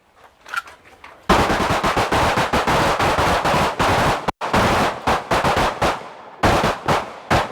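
Rapid pistol fire during a range shooting drill: a dense stream of sharp overlapping gunshots from several shooters, with one brief gap midway, loud and close.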